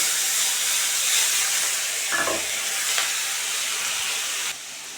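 Onion paste sizzles and hisses steadily in hot oil already fragrant with fried cloves and cardamom, a continuous close frying noise with a brief stir partway through.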